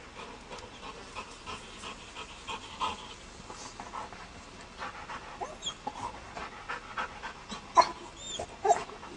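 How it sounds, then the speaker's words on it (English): A dog pants rapidly and close by, the quick rhythmic breaths running throughout, broken by a few soft whimpers and yips near the end. "He's the most vocal, optimistic, clever dog I've ever come across."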